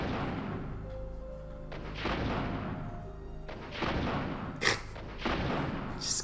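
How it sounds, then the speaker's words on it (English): Rocket launcher explosions in Resident Evil 3, several deep booming blasts arriving in bursts with rumbling tails, loud and close, some sharper cracks between them. "Comically useless explosions."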